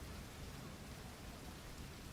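Steady rain in the video game The Division 2, a continuous soft hiss of falling drops with a low rumbling undertone, faint and unbroken, without voices.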